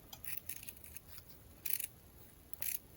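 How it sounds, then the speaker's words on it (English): Scissors snip through heat and bond tape, cutting it in half with a few short, crisp cuts in a quiet room and one or two louder closing snips near the end. "you're going to do heat and bond tape. I'm going to cut it in half."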